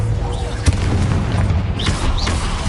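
A spell blast goes off in Hogwarts Legacy: one sharp, punchy boom rises out of a dense, steady bed of game ambience and effects, with no talk over it.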